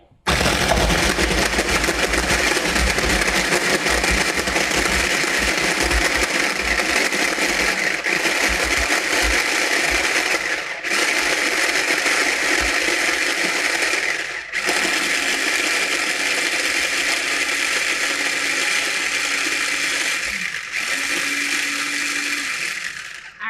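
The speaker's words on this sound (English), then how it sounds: "I'm gonna blend it up. It's gonna be loud for a second." A small kitchen blender whirs continuously at close range while chopping ingredients into a paste, its loud motor stopping briefly several times as the mixture is pushed down.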